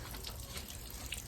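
Rusty, dirty water drains from the bottom of an old, never-serviced electric water heater, a steady faint rushing trickle with no pauses.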